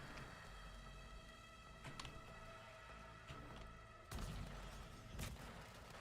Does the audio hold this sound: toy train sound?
no